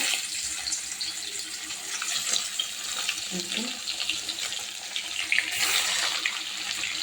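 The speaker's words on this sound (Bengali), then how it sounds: "এভাবে ভেজে নেবো আমি মাছগুলো" Tilapia pieces fry in hot oil in a wok, producing a hissing, watery sizzle that swells and fades unevenly, with a stronger surge toward the end and a faint voice now and then.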